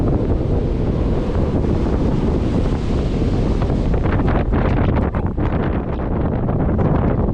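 Strong, steady wind on a clifftop on the Reykjanes peninsula in Iceland roars and buffets the microphone, a continuous loud rush with gusty fluctuations and no talking.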